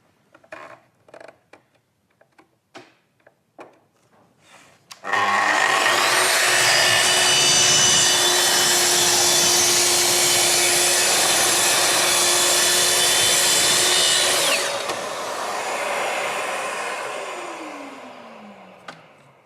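Festool TS55R plunge saw cutting veneered chipboard: a few light knocks and handling sounds, then a loud, steady whining cut for about ten seconds, ending as the blade spins down.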